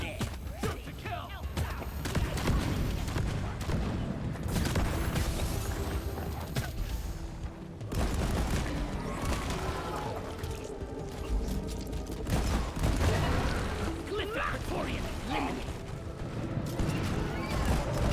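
Rapid, sustained gunfire from Deep Rock Galactic rattles on almost without pause, mechanical and clattering, with a short lull near the middle before the shooting resumes under occasional talk.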